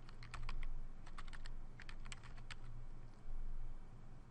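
Typing on a computer keyboard while entering comments into a patient chart template, with quick uneven bursts of close, light key clicks over a faint steady hum.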